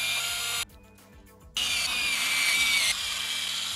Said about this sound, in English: Usually you can just unscrew them like that.